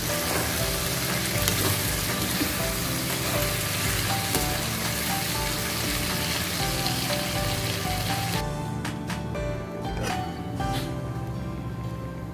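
Beef liver and carrots stir frying in a pan: a loud, dense sizzle runs throughout, with scraping stir strokes becoming clearer as the hiss thins out near the end.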